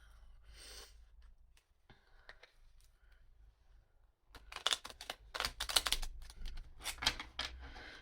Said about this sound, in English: I am absolutely useless at shuffling tiny cards.